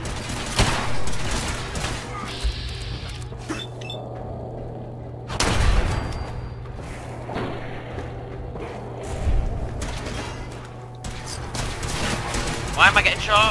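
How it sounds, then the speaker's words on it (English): Gunfire in the video game Fallout 4, several loud bursts and single shots spaced across the scene, some with booming tails, over a steady low game hum. "Why am I getting shot?"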